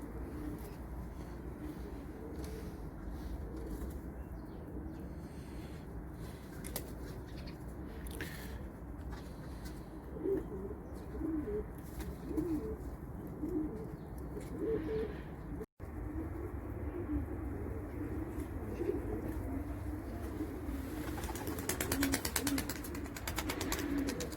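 Soft pigeon coos repeat over a steady low rumble of wind and flutter, continuing through the whole stretch at moderate distance.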